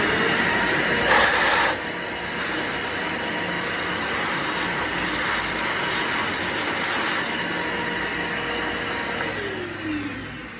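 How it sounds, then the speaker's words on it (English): A vacuum cleaner runs steadily, close and loud, while it sucks debris out of a Robur SE coffee grinder, with a brief rattling burst early on and a continuous whooshing roar throughout. "Then vacuum everything out."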